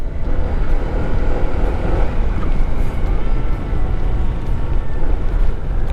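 Constant heavy wind roar buffets the microphone with a low engine drone underneath, loud and unbroken throughout, riding fast on a motorcycle in light drizzle.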